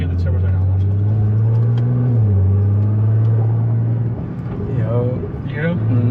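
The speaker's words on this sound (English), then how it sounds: "You hear the turbos right now." Turbos spooling on a 600+ wheel-horsepower Nissan GT-R under acceleration, a steady loud engine drone with a rising whistle near the end, heard from inside the car beneath an occupant's voice.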